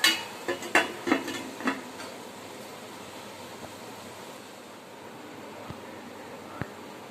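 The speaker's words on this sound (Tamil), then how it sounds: "மூடி போட்டு மூடிடலாம்" A metal lid clanks onto a pot of prawn thokku with a cluster of sharp clatters at first, then quiet hiss with two faint taps later.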